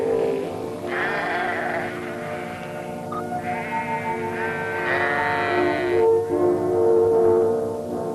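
Lambs bleat repeatedly at close range in the English countryside, several drawn-out wavering cries that overlap and follow one another, loud and clear with no talking.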